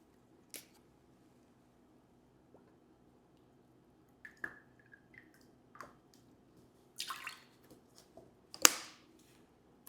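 Half ounce of lime juice poured into a Moscow Mule, heard as a brief faint trickle and splash among quiet clinks and taps, with no voices.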